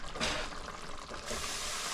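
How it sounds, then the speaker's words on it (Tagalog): Water pours steadily into a pot of tinolang manok chicken soup, a soft continuous rushing splash with slight surges, a voice faintly present underneath. "Lagay natin ulit ng tubig mga kabuli"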